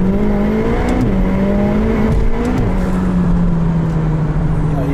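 A 2018 McLaren 720S supercar pulls hard after a downshift, its engine note climbing loud and close in a sustained rising drone that dips briefly with a gear change, then keeps pulling.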